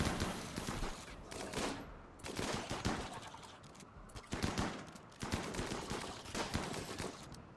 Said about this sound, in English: except they're just shooting us